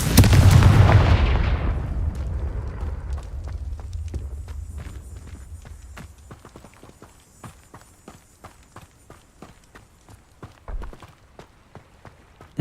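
A Confringo fire spell in the video game Hogwarts Legacy sets off a loud booming explosion at the start that rumbles and fades, followed by soft, regular footstep-like taps.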